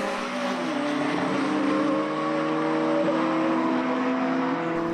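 A race car passes on the Mondello track during a BOSS race, its engine note holding a steady loud drone and sliding down in pitch as it goes by, with no voices.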